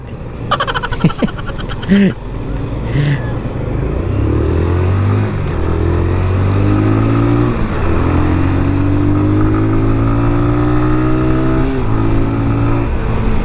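A QJ Motor SRV 200 motorcycle is ridden on the road, its engine holding a steady drone that rises and falls through the gears with some wind noise. A brief clatter comes near the start, and a rider talks in places.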